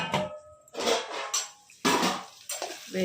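Ivy gourd (tindora) fry stirred in a pan with metal utensils, giving bursts of clinking and scraping that come and go in several short clusters, close and fairly loud.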